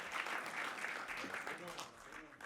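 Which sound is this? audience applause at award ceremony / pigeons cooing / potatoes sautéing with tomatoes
audience applause at award ceremony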